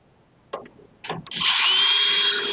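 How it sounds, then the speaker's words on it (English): A couple of scraping knocks, then a power drill starts up and whines loudly and steadily, close by, drilling holes in metal while installing a dump truck tarp system. "And now we can take this and finish drilling the holes."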